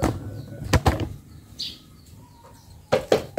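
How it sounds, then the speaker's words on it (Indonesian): A young prenjak (prinia) bird flutters its wings inside a used cage, giving a few short, close bursts of flapping separated by quiet gaps, with a faint chirp between them. "burung bahannya saya taruh di sangkar bekas Casper ini ya"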